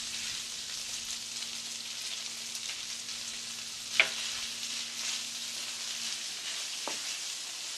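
Fish cooking in cream in a pan, a steady soft sizzle and bubbling hiss throughout with a couple of brief clinks, close and alone without talk.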